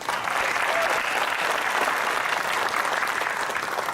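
An alumni spring reunion audience claps steadily, dense even applause held at a constant level throughout.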